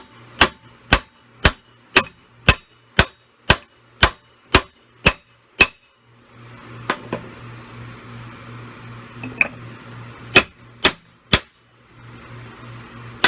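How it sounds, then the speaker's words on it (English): A hammer drives new wheel studs into the rear hub of a Yamaha Rhino 660 during a wheel bearing job: about eleven sharp, evenly spaced metallic blows, then a pause with a low hum and a few more strikes near the end. "I prefer the hammer on there."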